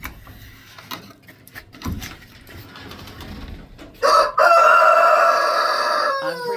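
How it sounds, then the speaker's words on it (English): After some quiet rustling and clicks, a rooster crows loudly nearby, one long strained call lasting a couple of seconds. "I'm pretty sure he's a rooster."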